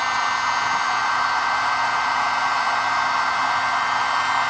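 A heat gun runs continuously, its loud, even blower roar like a hair dryer held close, warming parts of a US M1 .30 caliber carbine during cleaning, with no voices over it.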